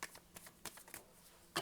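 Tarot cards being shuffled by hand in a series of quiet, irregular riffling and slapping bursts, close and soft, with a sharper flick at the end and no talk.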